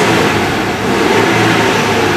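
A Chevrolet S-10 engine with a high idle and stalling fault is held at raised RPM, giving a loud, close, steady revving drone with no speech.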